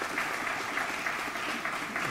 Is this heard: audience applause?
yes